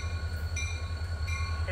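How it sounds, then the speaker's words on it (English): Switching train rolling past a railroad crossing with its gates down, a steady low rumble of rail cars running throughout, with faint high metallic ringing tones on top. "You can see the rest of the train way back there."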